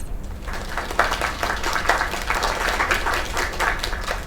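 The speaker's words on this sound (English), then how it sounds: "Another round of applause." Crowd applause inside a South Park video game, a steady wash of clapping that holds for several seconds at moderate loudness with no talk over it.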